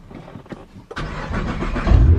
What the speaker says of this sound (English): That is the car running